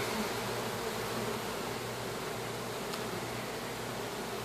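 Honeybees buzzing in a steady, continuous drone close by during a cut-out removal of a colony in Haines City, Florida, with no voices and a faint rustle throughout.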